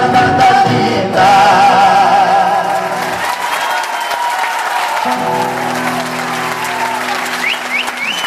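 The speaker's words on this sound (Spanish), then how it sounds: "el aplauso para Daniela y Guillermo" An audience applauds after a live cueca performance at a Santa Catalina festival, sustained loud clapping with scattered cheers over lingering music tones, continuing for several seconds.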